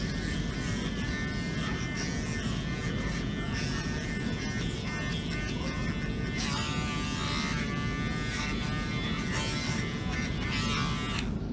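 Electric hair clippers buzzing steadily up close as a barber tapers the back of the neck and a beard fade, a continuous motor whir with slight shifts as the blade moves against hair.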